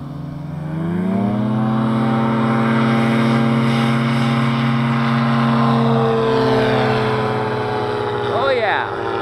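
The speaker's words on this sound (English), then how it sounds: "That was a very short takeoff." Small propeller airplane at full throttle on a short takeoff, a loud steady droning engine close by that holds for several seconds and then eases back.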